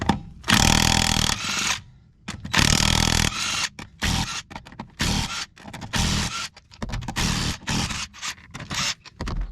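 An impact wrench hammers off a 36 mm front axle nut on a 1989 Chevy K1500 Silverado, loud bursts of rattling power-tool noise broken by short pauses and scraping clanks.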